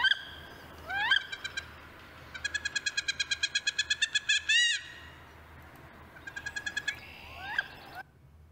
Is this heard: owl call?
yes